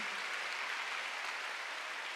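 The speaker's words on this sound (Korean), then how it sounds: "박수하세요." Applause from a church congregation during a Sunday worship service, a steady wash of many hands clapping that holds evenly for about two seconds at moderate distance, with no voices over it.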